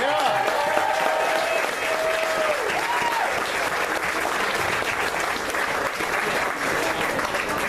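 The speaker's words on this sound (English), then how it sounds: "Can we get one more round of applause?" A political campaign event audience gives a loud, dense round of applause that holds steady throughout, close and full, with a few faint tonal sounds and scattered voices in the crowd.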